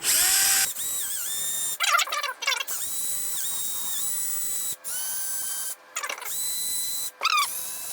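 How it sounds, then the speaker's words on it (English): Electric drill spinning a brush to clean the brake hub grooves of a Hyundai Santa Fe, a high whining motor running in bursts with short scraping, chattering contact noises between runs. "you can do that just simply by either a brush or a brush of some form. I have it on a drill bit"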